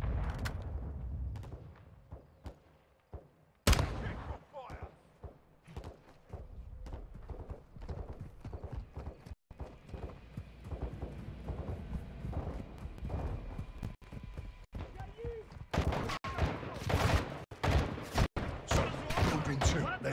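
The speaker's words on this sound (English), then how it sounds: "Crash site is taking rocket fire from building two!" Gunfire and rocket fire in the Call of Duty Modern Warfare II campaign, sharp bursts and booms scattered across the scene amid battle noise, with shouted voices over it.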